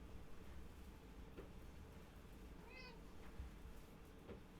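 A cat gives a single short meow, faint and midway through, against a steady indoor background hum with a few soft ticks.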